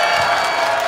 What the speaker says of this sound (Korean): 여러분들의 박수와 함성으로